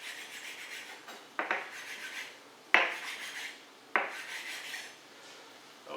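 A knife saws through the tough cardboard insert of a cheesecloth package, making close, raspy scraping strokes broken by a few sharp snaps and clicks as the blade catches and releases.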